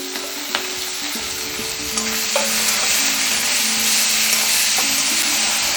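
Finely chopped onion with sliced green chilli sautéing in a pan while being stirred, making a steady close sizzle with occasional scrape and clink of the spoon, no talking.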